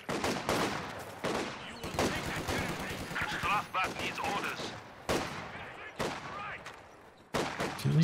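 Loud bursts of machine gun fire from the video game Company of Heroes 2, rapid automatic volleys repeating over several seconds with brief gaps between them, dense and close.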